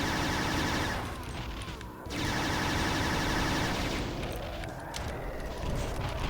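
Rockets fired from a launcher at Mancubi in Doom 2, a loud, continuous roar of blasts and explosions filling the whole stretch, dipping briefly around two seconds before surging again.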